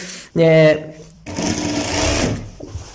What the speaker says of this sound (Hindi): अब 5 से 7 अटैच करने के बाद हम अपनी नाली की सिलाई लगाते हैं